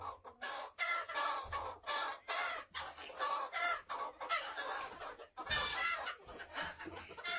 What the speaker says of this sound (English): It's a chicken piano.